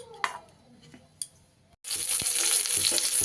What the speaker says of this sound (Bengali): এদিকে ফুলকপিগুলোও আমার ভাজা হয়ে গেছে লাল লাল করে